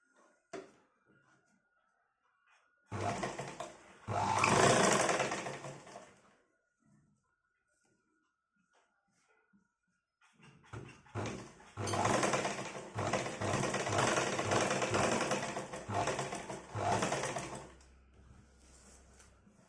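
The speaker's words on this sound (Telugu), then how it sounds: "మార్కింగ్ అయితే కనబడుతుంది కదా, ఈ మార్కింగ్ వెంబడే కుట్టు అయితే రావాలి." A sewing machine stitches along a marked line on fabric at a side joint of a top, running in two steady, close bursts of rapid rhythmic clatter, the second longer, with quiet pauses between them.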